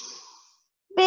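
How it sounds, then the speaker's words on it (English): A deep breath drawn in during a floor stretching class, a soft airy inhale that fades into near silence before a sudden louder sound at the end. "Take a big breath in."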